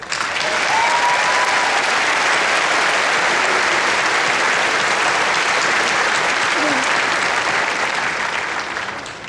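Sustained applause from a graduation ceremony audience, a dense, steady wash of clapping at full volume that holds evenly throughout with a faint voice briefly audible beneath it.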